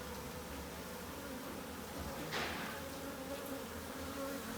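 Honeybees from a small swarm settled in a compost bin fan and hum, a dense, continuous buzzing drone heard close up with no talk.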